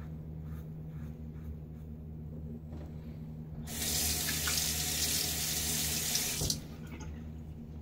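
Tap water gushing into a sink to rinse a safety razor, a bright steady splash that starts suddenly and runs for about three seconds before cutting off, over a low background hum.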